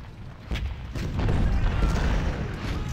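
Cannon and musket fire from a Civil War battle at Antietam in the strategy game Ultimate General: Civil War, heard as a steady rumbling barrage with a few heavier booms, continuous and fairly loud.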